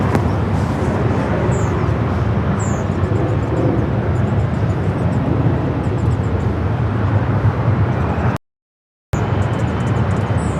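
A SkyWest passenger jet taking off at LAX, a steady, loud, broad engine roar that holds evenly throughout with a brief dropout near the end.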